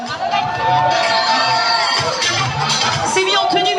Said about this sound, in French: On peut applaudir Tom.